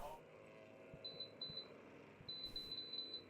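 Electronic beeps from a timing and scoring loop at an endurance race for amateur race cars, sounding in short repeated pairs as the cars pass, faint over low track noise and background talk.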